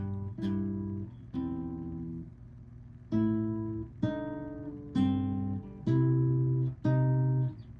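A guitar plays a melody as a slow sequence of sustained plucked notes, roughly one per second, clear and close with no talking.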